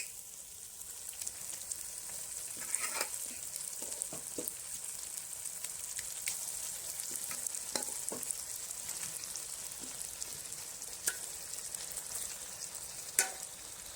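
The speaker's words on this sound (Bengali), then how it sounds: "ম্যারিনেট করা মাটনটা মশলায় দিয়ে দিচ্ছি" Marinated mutton hits a hot spice masala and fries with a soft, even sizzle, broken by scattered crackles and a few sharper pops, heard alone at low level.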